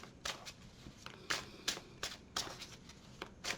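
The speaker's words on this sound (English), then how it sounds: "We're going to go ahead and get some shuffles in here." Tarot cards shuffled by hand close up, a quiet string of brisk riffling bursts about every half second, with no talk.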